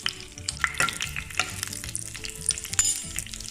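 Ghee tempering with cumin, mustard seeds, urad dal and chana dal in a pan: a close, busy crackling sizzle with popping seeds and occasional utensil clinks, loudest near the start and end.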